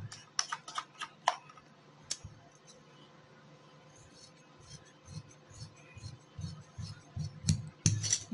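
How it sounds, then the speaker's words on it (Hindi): Scissors cutting black trouser fabric into pieces, heard as clusters of sharp snips and clicks with quieter soft rustling in between, close and fairly quiet with no talking. "ये दोनों हिस्सों को मैंने काट लिया।"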